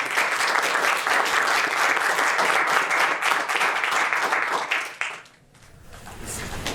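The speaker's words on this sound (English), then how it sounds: "Let's give a round of applause." Audience applause at an indoor media industry side event, a dense, steady burst of many hands clapping that cuts off abruptly about five seconds in and then fades into room tone.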